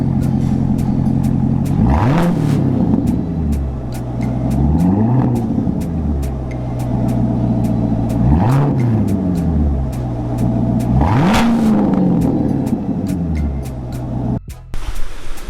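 A C7 Corvette Stingray fitted with a new Borla exhaust revs hard several times in a row. Each rise and fall of the engine note is loud and close, and one last short blip comes near the end.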